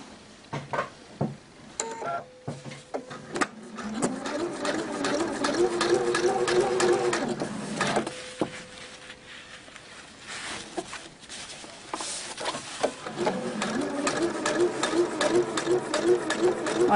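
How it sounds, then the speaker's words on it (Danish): A sewing machine runs a plain straight stitch up a trouser crotch seam, its fast steady whirring rattle in two long runs separated by a pause, close up while someone speaks over it. "Jeg syr bare herfra og op, og så skal jeg stoppe en centimeter op her. Og det er bare med helt almindelig ligeudsyning."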